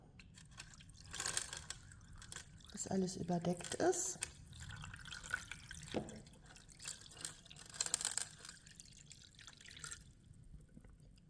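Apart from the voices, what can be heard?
water poured into a tub over books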